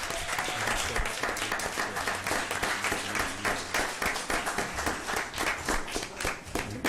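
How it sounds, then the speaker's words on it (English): Applause from an audience at a school board meeting, a dense burst of hand clapping lasting several seconds at steady loudness. "Please give him a big round of applause."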